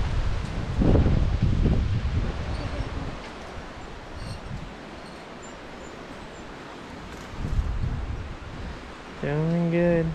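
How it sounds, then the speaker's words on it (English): Steady wind rushing through rainforest leaves at the Arenal Hanging Bridges in La Fortuna, Costa Rica, a constant broad hiss with people talking briefly at the start and near the end. "The wind's blowing."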